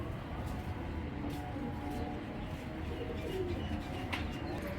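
Big green-necked Giribaz pigeons coo softly at moderate distance. The low, repeated calls sit under steady background noise, with a few faint chirps mixed in.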